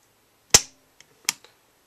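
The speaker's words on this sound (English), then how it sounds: "So, here's the new trigger pull on the single full pull." A handgun's trigger, fitted with a newly swapped D-spring, is pulled in a single full pull, giving a sharp, close metallic snap followed by a second quieter click, with faint ticks in between.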